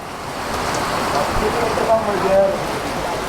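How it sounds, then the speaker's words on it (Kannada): Heavy rain pouring outdoors in Tamil Nadu, a dense steady hiss of falling water that fills the whole stretch, with a voice briefly talking over it. "ಹೆವಿ ಬರ್ತೈತೆ ಮಳೆ ಮಾತ್ರ."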